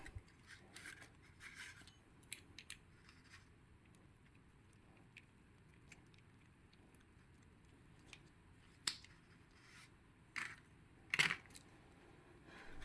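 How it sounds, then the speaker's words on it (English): A T20 Torx wrench unscrewing a bicycle hydraulic brake lever, small faint metallic clicks and scrapes scattered irregularly over a quiet background, with a few sharper ticks near the end and no talking. "Now unscrew the lever using T20 torx wrench."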